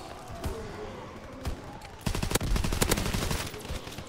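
Gunfire in Call of Duty WW2: scattered single shots at first, then dense rapid bursts of automatic fire in the second half, with voices speaking now and then.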